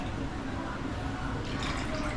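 Water poured into a pan on a gas stove for cooking Odia manda, a close, steady splashing gush lasting a couple of seconds with faint voices in the background.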